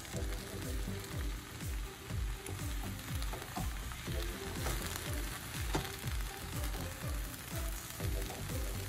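Green beans and butter sizzle steadily in a pan on low heat, a close, continuous crackling fry with faint stirring, and no talk.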